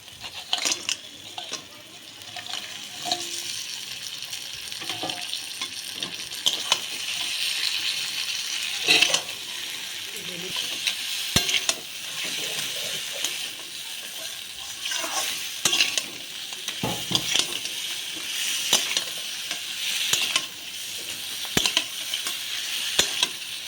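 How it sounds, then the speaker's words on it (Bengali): Mud crabs from the Sundarbans tossed into a pan of cooked spice paste for a hot crab curry, frying with a steady close sizzle throughout, broken by frequent scrapes and clinks of stirring. "মশলা খুব সুন্দর ভাবে কষে গেছে আমি এবার গুলো দিয়ে কষিয়ে নেবো কাঁকড়াগুলো দিয়ে দিচ্ছি"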